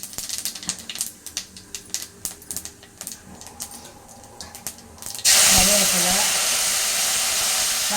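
Fennel seeds drop into hot cooking oil in a home kitchen, and a loud steady sizzle bursts in and holds. Sharp tapping clatter precedes it.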